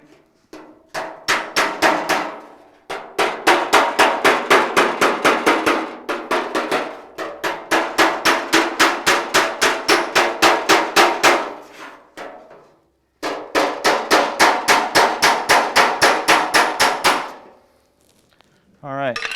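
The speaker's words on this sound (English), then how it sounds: "So I'm going to hammer back on this seam a little more." Rapid, evenly spaced hammer blows ring against the seam of a steel 1956 Chevy fender under repair, close and loud, falling in four long runs of sharp metallic strikes with short pauses between them.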